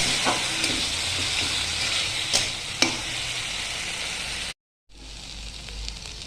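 Puti fish curry masala sautéing in a pan gives a steady, close sizzle with stirring scrapes and a few sharper clicks, cutting out briefly near the end before the frying hiss resumes.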